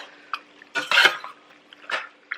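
Alfredo sauce from a jar being stirred into a casserole dish, with a few close, brief scraping clinks and wet squelches of the utensil against the dish, heard alone.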